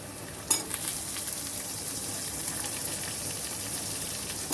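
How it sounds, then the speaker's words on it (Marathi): Potatoes sautéing with crushed garlic in a pan, a low even sizzle with a sharp stir or clink near the start, steady and quiet throughout without talk. "आता हे बटाटे थोडेसे याच्यात परतून घ्यायचेत आपल्याला"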